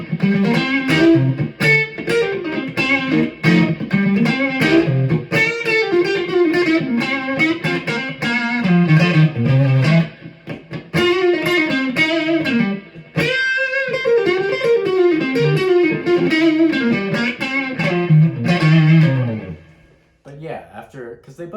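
An electric guitar plays bluesy phrases through a Fender amp with a Tube Screamer overdrive engaged, its driven, sustained notes and chords loud and up close, ending in a brief pause near the end.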